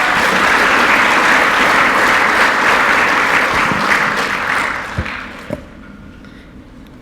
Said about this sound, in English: Another big round of applause for Leeton Lee.